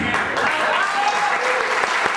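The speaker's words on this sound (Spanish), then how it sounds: "quiero que le den un aplauso muy grande" Loud crowd applause at a university Colombian music event, continuous and close, a thick patter of clapping hands filling the whole stretch.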